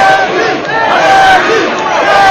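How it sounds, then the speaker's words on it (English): Boxing arena crowd roaring and cheering for fighter Reggie Johnson during his bout with Julio Gonzales, a loud sustained swell of many voices with whistles cutting through. "The crowd really getting behind Reggie Johnson at this point."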